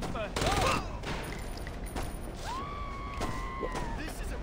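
Loud bursts of rapid gunfire in the Saints Row video game rattle out near the start, followed by scattered shots amid game noise, sirens and voices.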